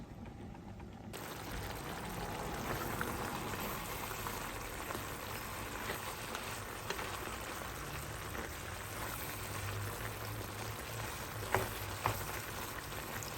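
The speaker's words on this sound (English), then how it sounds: "I am just gonna allow it to like simmer in that way" Chicken, leeks and bacon simmering in a pot give a steady soft bubbling hiss throughout, close and even, with a couple of faint clicks near the end and no talking.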